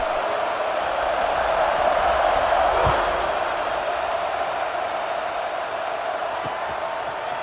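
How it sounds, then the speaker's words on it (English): A stadium crowd buzzes in a college football video game between NC State and Virginia Tech: a steady, dense roar under a commentator's talking. "this crowd is buzzing after that last score"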